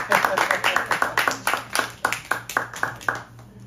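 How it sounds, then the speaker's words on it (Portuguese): Audience at a poetry and prose event claps for Arthur in a rhythmic, evenly spaced beat, about a dozen sharp unison claps, close and crisp, with voices faint underneath. "Salva de palmas pro Arthur, então"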